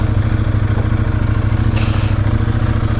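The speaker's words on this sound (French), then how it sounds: "on est sur la moto, on est prêt à y aller" A motorcycle engine runs steadily at idle, close and fairly loud, with a constant low throbbing rhythm and a brief higher hiss near the middle.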